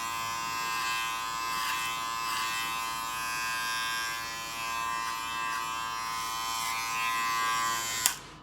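Electric hair clipper buzzing steadily and close during a fade haircut, a constant bright hum with slight changes as it moves through the hair, ending in a brief clunk.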